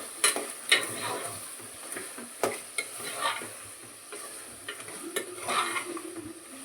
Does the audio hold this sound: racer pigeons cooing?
no